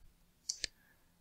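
Two quick, crisp clicks close by, about a sixth of a second apart, from keys pressed while typing a command on a keyboard in an Ubuntu terminal. The surroundings are otherwise quiet.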